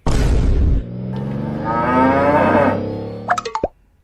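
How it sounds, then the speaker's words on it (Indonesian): A Limousin cow gives one long, loud, close moo that swells and trails off, followed by a few short plopping sounds at the end. "pernah dengar tidak tentang sapi limosin?"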